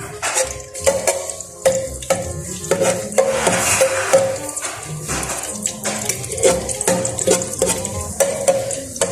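Garlic sizzles in a hot pan as the base for ginisang ampalaya, with steady frying crackle under repeated scraping and stirring clinks of a utensil against the pan, close up and without talk.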